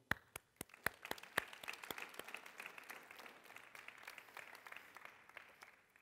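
Audience clapping at a campaign meeting for a municipal election program, beginning with a few loud separate claps and building into faint, sustained applause from a modest crowd that thins out toward the end.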